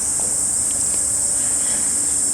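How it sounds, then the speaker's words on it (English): Continuous high-pitched cricket chirping fills a forest in Tokyo, a steady dense trill with faint background noise and no other sounds. "The perpetual sound of the crickets in the forest."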